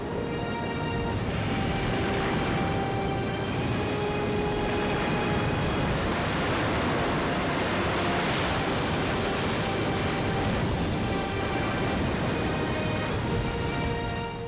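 Large ocean waves breaking at a surf spot where an undersea canyon funnels swells up to 60–100 feet near Lisbon, a steady roaring wash of surf with wind, loud and continuous throughout.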